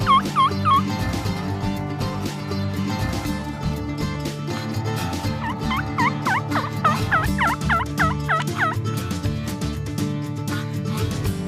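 A wild tom turkey gobbles repeatedly during a spring hunt, with rattling bursts coming in clusters at the start and again through the middle, fairly loud over a steady background of other sound.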